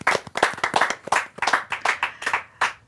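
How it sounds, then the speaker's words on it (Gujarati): An audience at a Gujarati movie talk event claps in a quick, steady rhythm of sharp, close hand-claps, about three per second, loud and with no talking over it. "એક વખત જોરદાર તાળીઓ સંજયભાઈ માટે."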